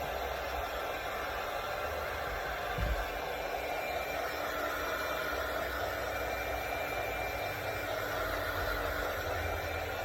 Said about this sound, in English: Once I do that, I come in with my heat gun